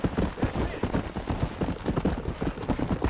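Horse hooves clip-clop in the video game Red Dead Redemption, a quick, steady gallop that is close and loud throughout.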